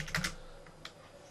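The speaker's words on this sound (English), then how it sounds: "I'm going to type" Keystrokes on a computer keyboard, a few quick taps near the start and a lone click later, quiet and close, while code for Minecraft Forge 1.7 modding is entered.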